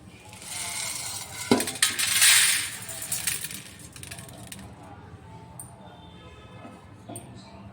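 Roasted whole spices tipped from a pan onto a plate, a dense rattling, clinking pour of small hard seeds with metallic scrapes, loudest early, then fading to occasional faint clicks.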